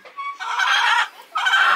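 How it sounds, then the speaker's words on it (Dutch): Chickens with curly, permed-looking feathers cluck loudly and close up at a petting farm, two bursts of busy, overlapping clucking with a short lull between them and no talking. "zie je deze kippen in vergelijking met die kippen die we afgelopen week zagen?"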